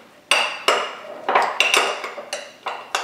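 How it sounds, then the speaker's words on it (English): A metal spoon clinks repeatedly against a mug while mashing sliced banana for a chocolate protein mug cake, a quick irregular series of bright taps and scrapes up close. "you're gonna want to mash it up with a spoon"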